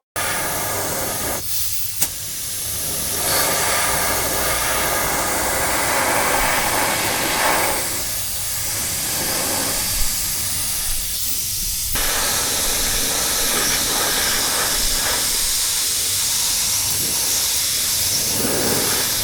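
A spray gun lays down clear coat at very low air pressure, around 10 psi, while blending a car paint repair; a steady close hiss runs throughout with brief dips as the trigger is feathered.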